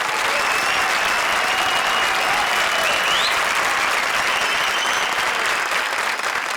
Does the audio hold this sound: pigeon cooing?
no